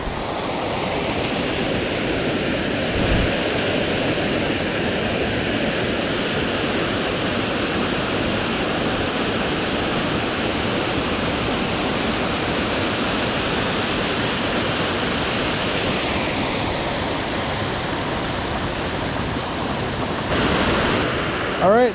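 Holcomb Creek Falls, a mountain waterfall reached on a hiking trail, roars steadily and close by as a dense, unbroken rush of falling water that holds level from start to finish.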